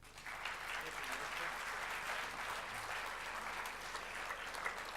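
Audience at the NSWALC Statewide Conference applauds Federal Minister Nigel Scullion with a steady, full round of clapping, heard at a distance and fairly quiet, with a faint murmur of voices underneath.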